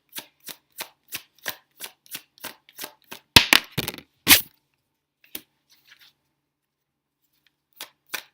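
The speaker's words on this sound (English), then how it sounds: "let's pull some cards and see what other messages come out" Tarot cards shuffled in a quick series of crisp, evenly spaced riffles, then a denser burst of snapping and slapping as cards are pulled, followed by a few sparse taps in near silence.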